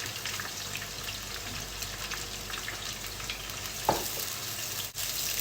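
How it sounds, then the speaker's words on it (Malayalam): Sliced onions frying in hot oil for Kerala-style fish biryani, a constant soft crackling sizzle close by, with a single clunk partway through. "നല്ല ഗോൾഡൻ കളറിൽ നന്നായിട്ട് ഫ്രൈ ചെയ്ത് വരട്ടെ."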